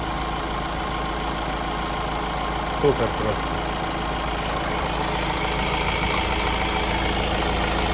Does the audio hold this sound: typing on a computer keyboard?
no